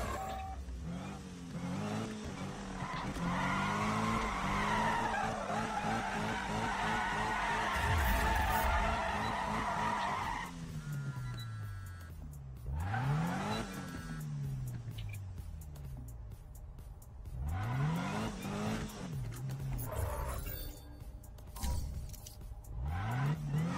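Engine revs and squealing, skidding tires from a car drifting in the PC racing game Need for Speed (2015), loud and continuous with rising and falling pitch sweeps as the car slides through corners, with no talk.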